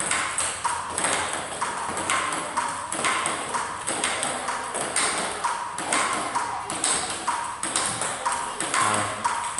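Table tennis ball is struck with repeated backhand strokes during practice, giving a quick, regular run of light ticking hits against faint background noise.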